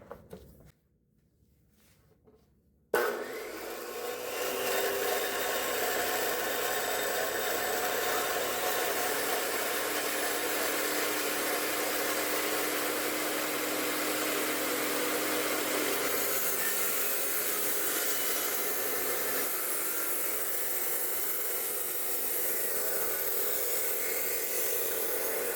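Vevor and DeWalt chop saws cut heavy-wall 10-gauge steel tubing, a steady loud grinding whine that starts abruptly after a few quiet seconds and continues unbroken for the rest of the stretch.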